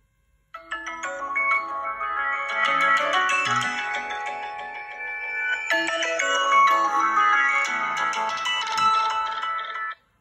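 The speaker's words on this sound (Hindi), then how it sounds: "साउंड सुन लेते हैं फ़ोन की," A Vivo Y36 smartphone plays a melodic ringtone through its loudspeaker, a bright tune that starts after a brief pause and continues steadily for about nine seconds.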